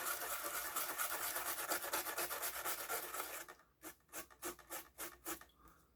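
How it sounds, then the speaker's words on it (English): Steady back-and-forth scrubbing on a PS5 console part during a rear USB port replacement, dense rapid strokes at first, then slower, separate rubbing strokes toward the end, quiet and close. "Give it one more good little scrub."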